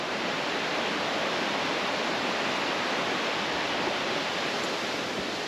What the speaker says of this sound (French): Je pense que vous entendez du bruit, parce qu'il y a la rivière qui est juste à côté